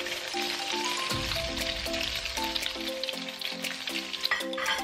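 Beaten egg frying in hot oil in a pan for a minced pork omelette, a steady close sizzle and crackle with occasional utensil taps, no voices.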